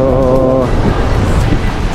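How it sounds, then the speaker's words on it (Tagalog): Strong sea waves roll in at a beach in Pasacao as the monsoon season begins, a loud close wash of surf and wind buffeting the microphone, with a brief tonal voice-like sound at the start. "kaya lakas na ng alon ngayon kasi maghahabagat na"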